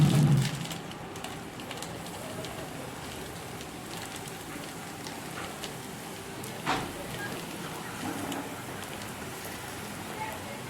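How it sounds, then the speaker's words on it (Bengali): Mung dal jilipi fry in hot white oil, a dense steady sizzle and crackle like rain, close and continuous, with a brief louder burst near the start. "তেল গরম হয়ে গেছে এবার আমি এগুলো ভেজে নেব"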